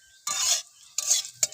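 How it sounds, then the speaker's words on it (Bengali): Bitter gourd slices fry in a pan while a spatula scrapes and stirs them in three quick strokes, each with a burst of sizzling. "উচ্ছে ভাজাটা দেখুন কেমন লাগছে।"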